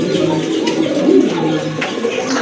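A pair of high-quality domestic pigeons offered for sale coo in low, steady throaty calls that run continuously and close by, with no talk over them.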